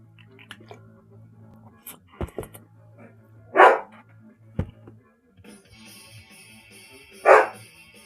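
A dog gives two sharp, loud barks several seconds apart amid quieter thumps and clicks nearby.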